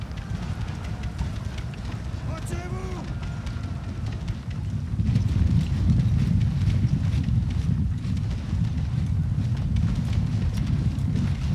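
Cavalry horses charging in a France versus Russia battle game, a dense rumble of many galloping hooves with scattered musket pops and wind noise, swelling louder midway, with no talking.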